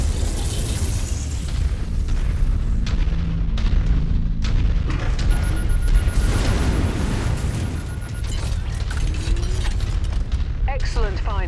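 Loud explosions and booms of destroyed targets in a MechWarrior 5: Mercenaries battle, with heavy rumbling blasts and bursts continuing throughout, mixed with a voice speaking over the combat.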